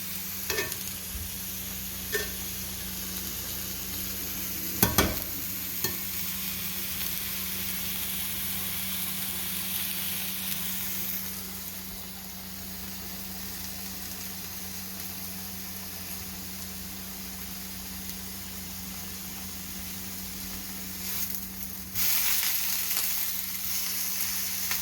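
Onions and chorizo frying in a pan on a stovetop, a steady broad sizzle running throughout, close and moderately loud, with a few sharp utensil clicks and a louder burst near the end.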